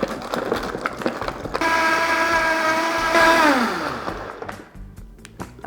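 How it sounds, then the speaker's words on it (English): A large countertop blender whirs loudly through a smoothie, steady harmonic whine for a couple of seconds before winding down as the motor slows, with softer kitchen clatter before and after. "Now you could put this in a smaller blender if you had it, but this is all I got. Blend it up."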